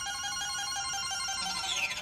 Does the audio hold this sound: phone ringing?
yes